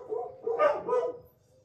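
Dogs bark and yip outdoors in a short, overlapping burst of several barks, moderately near, fading into faint background noise.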